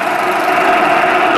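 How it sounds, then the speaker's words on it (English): Atlas rocket vernier engine starting up during a test firing: a steady, loud, close roar with a constant engine-like drone and no break, heard alone. "This is the vernier engine at start, followed by booster ignition 5 seconds later."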